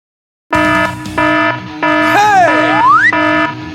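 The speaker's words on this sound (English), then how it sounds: "The alarm is on. Time to go on duty." Electronic alarm in a cartoon about a mini tractor and excavator blares in repeated loud tonal bursts, one note sliding down and back up in a wailing sweep before the steady pulses return.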